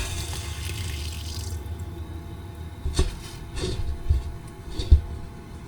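Water gushes steadily out of an open valve port on a pressurized cleanout unit after a gold strike, a close rushing flow with a few louder surges and splashes.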